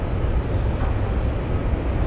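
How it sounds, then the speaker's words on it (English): Heavy airliner taking off from runway 33 at Anchorage airport, likely a Boeing 747, a steady broad low roar of jet engines heard from a distance, continuous and unbroken with no voices. "I love to see the heavy takeoffs"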